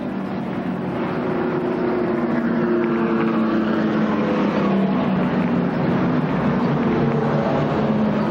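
Stock cars rolling slowly under caution at Winchester Speedway, a continuous loud engine drone with shifting low tones as several cars circle nearby.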